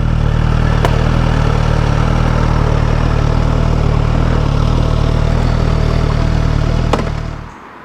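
A 2023 Suzuki Katana motorcycle idles up close with a loud, steady, even engine rumble that holds for several seconds before cutting off at the end.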